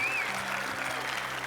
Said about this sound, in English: Let's have one more huge round of applause for Creative Kitty Studios.